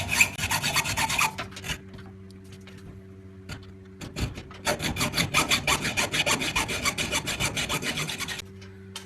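A hacksaw rasps through a brass and aluminium alloy BBQ gas regulator held in vice grips, in close, loud back-and-forth strokes with a short pause partway through.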